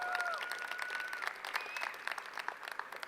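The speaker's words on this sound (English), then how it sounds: "Let's give a little round of applause for him as well." Crowd at a startup pitch competition gives a sponsor on stage a round of applause, a fairly faint but steady patter of many hands clapping that sounds a little distant.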